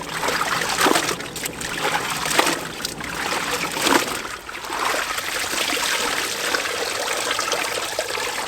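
Water rinsing an animal hide during tanning, a steady splashing and trickling wash that runs continuously, close and fairly loud, with no talking.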